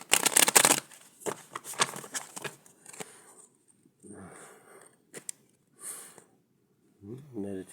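Soft riffling and shuffling of tarot cards in several short bursts, close by, with a few quiet breaths and faint rustles between them.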